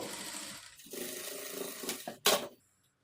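A sewing machine stitches the side seam of a blouse in a short, close run of rapid mechanical chatter, then a sharp clack before it stops into near silence.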